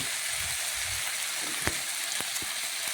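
Cabbage frying in a pan with a splash of water from rinsing the spice bowl, a dense steady sizzle close by with a few utensil knocks, no talking.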